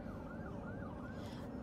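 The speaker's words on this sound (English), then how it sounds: "there's cops. I heard sirens" A wailing emergency siren, likely police, rising and falling in slow sweeps, faint and distant under a low rumble of road traffic heard from inside a car.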